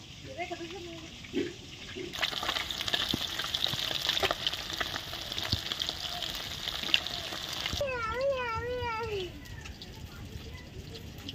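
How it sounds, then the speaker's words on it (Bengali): Steady crackling sizzle of rohu fish frying in hot oil, loud and close, lasting several seconds, with brief talk and a chirping sound near the end. "সব মাছগুলো এরকম করে ভেজে নেব"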